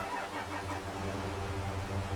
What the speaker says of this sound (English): I'm just going to do this, get this tractor.